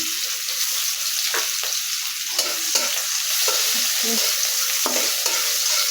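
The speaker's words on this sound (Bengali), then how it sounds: "এই যে এখন মাছ রান্না বসিয়ে দিচ্ছি পেঁয়াজটা দিয়ে দিলাম" Onions frying in a pan for fish curry, a loud constant hissing sizzle with occasional soft stirring scrapes, close up and steady throughout.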